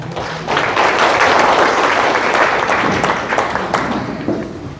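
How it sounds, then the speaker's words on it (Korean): An audience at a forum lecture applauds, a dense burst of clapping that swells quickly, holds strong and then gradually thins out, heard fairly close without talk. "박수로 보내해 주시기 바랍니다"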